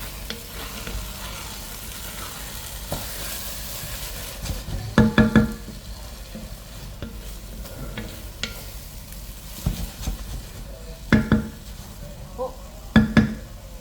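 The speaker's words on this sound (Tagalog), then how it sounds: "Ayan, haluin na natin." Bitter gourd (ampalaya) and whole eggs, cooked dry without water, are stirred in a large casserole pot over a steady background sizzle, with clustered scraping strokes of the spoon against the pot arriving in short bursts.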